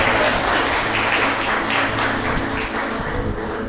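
A church audience applauds in a dense, steady wash of clapping that fills the whole stretch at moderate loudness, with no voice standing out above it.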